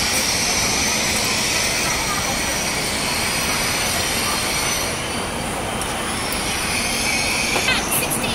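A bullet train at a Wuhan station produces a loud, steady rumble and hiss of rail noise with high whining tones, sustained throughout, while voices can be heard faintly in the background.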